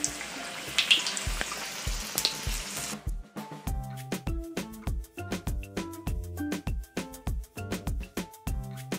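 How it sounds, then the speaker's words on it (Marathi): Sponge gourd fritters dropped into hot oil give a dense, hissing sizzle for about three seconds. A rhythmic run of sharp, ringing plucked notes then takes over, with no speech. "आणि चांगली अशी मीडियम टू लो फ्लेमवर ही भजी दोन्ही बाजूने छान तळून घ्यायची।"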